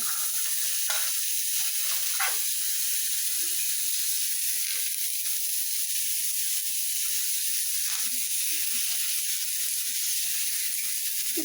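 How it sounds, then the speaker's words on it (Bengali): Onion, bitter gourd and potato fry together in a kadai, giving a loud, steady sizzle that runs the whole time, with a few soft stirring scrapes and no talking. "ওই কড়াইয়ের মধ্যেই আমি যে পেঁয়াজ, করলা, আলু সব একবারে দিয়ে দিলাম"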